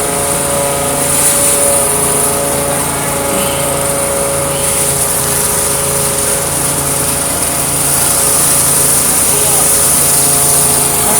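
A Contractors Enterprise pressure washer engine runs steadily and loudly throughout with a constant high-pitched mechanical drone, while people talk over it.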